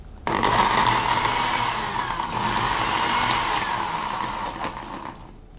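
Mixie mixer grinder blending fruit for fruit popsicles, a loud, steady motor whine with chopping churn that starts abruptly and runs continuously before cutting off near the end.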